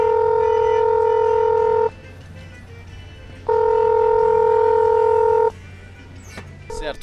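An emergency call box at the Rondônia Rural Show sounds a loud electronic tone twice while a call is transferred to the police line, each tone lasting about two seconds with a pause between them.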